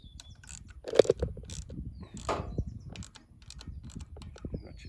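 Ratchet turning a 5/16 inch nut during RV AC wiring work, a quick burst of sharp clicking pawl ticks followed by scattered metallic creaks and scrapes, close and alone.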